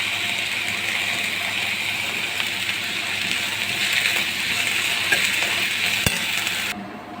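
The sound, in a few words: sautéing drumstick leaves with onion and green chili in pan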